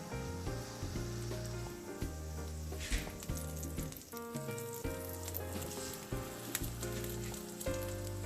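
Bread frying in a pan sizzles steadily beneath music with a strong beat and melody, the crackle continuous throughout and fairly quiet.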